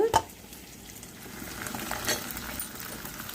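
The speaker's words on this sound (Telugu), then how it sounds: "పోపులు వేగుతున్నాయి కదండి ఇప్పుడు మామిడికాయలు వేసుకుందాం" Tempering spices crackle and sizzle softly in hot oil, a quiet continuous frying hiss with a faint stir or two, as mango pieces are about to be added for pulihora.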